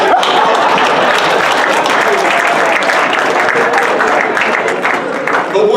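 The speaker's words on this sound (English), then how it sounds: "Give them a round of applause." A banquet audience at an MLK labor event breaks into loud, continuous applause with crowd noise and a few voices mixed in, holding steady before easing slightly at the end.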